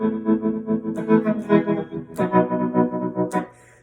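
A distorted electric guitar chord rings out, chopped into a steady, rapid pulsing rhythm by a choppy tremolo pedal effect, then cuts off abruptly.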